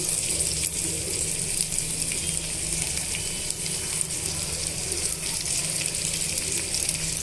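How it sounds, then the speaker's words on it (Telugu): Chopped onion and green chilli sizzle in hot oil with tempering seeds, a steady, loud frying hiss that runs unbroken throughout. "ఇందులోనే కట్ చేసి పెట్టుకున్న ఉల్లిపాయ ముక్కలు పచ్చిమిరపకాయ ముక్కలు యాడ్ చేస్తున్నానండి"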